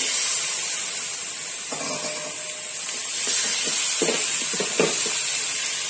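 Chicken pieces sizzle in a pan with ginger garlic paste, a loud close steamy hiss with a few scraping stirs and soft knocks partway through; no voices.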